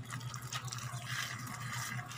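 Water trickling and splashing as a person's foot is washed, soft irregular drips and pours close by, faint and steady with no voices.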